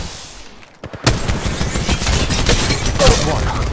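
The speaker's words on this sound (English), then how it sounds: "They're shooting at me." Rapid automatic gunfire in Apex Legends Mobile, a few sharp shots and then a dense sustained burst, loud and close, with a voice talking over it.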